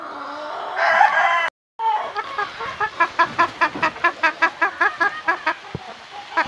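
An Asil rooster gives a loud crow, then after a brief gap a hen clucks in a quick, steady series of close, rhythmic calls.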